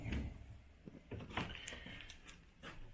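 Large cabinet doors swing open in a resort suite at the French Quarter Resort in Branson, Missouri, giving a few soft, close wooden knocks and brief rattles over a quiet room.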